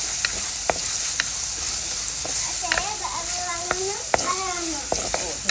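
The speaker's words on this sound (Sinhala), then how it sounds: "තෙලේ බැදෙන්න අරින්න ඕනේ නේද?" Ingredients for a Sri Lankan mango curry sizzle steadily in hot oil, a continuous close frying hiss broken by a few sharp clicks of stirring, while someone talks over it.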